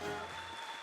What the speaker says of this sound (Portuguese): Dê mais uma salva de palmas ao Senhor.